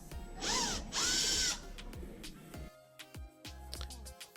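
A power drill whirs in two loud bursts while backing screws out of the top panel of a Kenmore washer, followed by scattered clicks, taps and clatter of the parts being handled.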